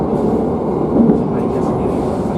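A passenger train travelling through East Java, Indonesia, gives a steady close rumble of wheels and carriage noise, continuous and even throughout with no clear clacks.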